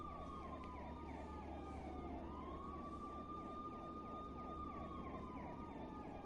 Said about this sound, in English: I'm like listening to the police sirens in my ears